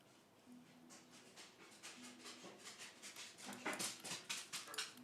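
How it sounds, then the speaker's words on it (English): Several dogs let outside whimper and yip in short repeated bursts that grow louder and busier toward the end, set against a quiet indoor background. "She's going to let the dogs out, so you guys are going to hear a little bit of a commotion."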